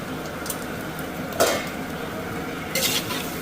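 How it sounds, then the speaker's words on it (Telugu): Fried chicken being stirred with masala in a clay pot, with a soft steady sizzle and a few louder scraping, clinking strokes of a spoon against the pot. "చికెన్ వేసుకొని ఇట్లా బాగా కలుపుకోవాలి. బాగా అంతా మసాలా అంతా ముక్కలకి అయ్యేటట్టు బాగా కలుపుకోవాలి."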